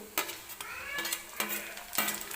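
Tomato tipped into fried onion in oil in a pan, with a spoon scraping and stirring in repeated strokes over a steady close sizzle.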